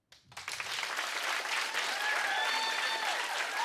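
A late-night television studio audience breaks into applause during a stand-up comedy set, the clapping starting abruptly and holding loud and full to the end, with a few cheers rising above it.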